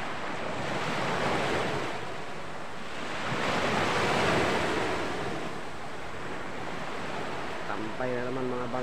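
Ocean surf at Sitio Recodo on the coast rolls in as a steady broad wash, swelling and fading with each wave, loud and close with wind buffeting the mic, and a brief voice at the end.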